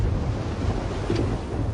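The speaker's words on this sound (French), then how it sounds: "un gros orage vient vers vous" Strong, steady wind gusting ahead of an approaching thunderstorm near a mountain summit, a dense, blustery roar buffeting the microphone throughout, with no voices.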